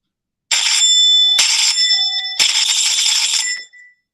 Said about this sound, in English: Here is how the buzzer will sound.